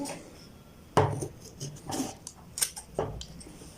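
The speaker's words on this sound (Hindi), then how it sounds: "तो यहाँ से हम इसकी कटिंग करते हैं।" Scissors cutting through shirt fabric during sewing, a few brief snipping and rustling sounds spread out with gaps between them, close and fairly quiet.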